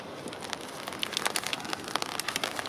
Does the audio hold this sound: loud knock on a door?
no